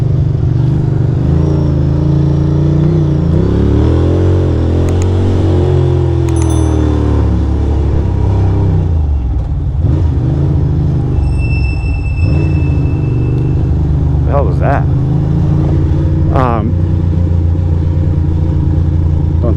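A Ducati motorcycle cruising through Manhattan traffic, its engine a loud, continuous low rumble that shifts pitch as it revs and settles, with faint city sounds and a brief high ring above it, no speech.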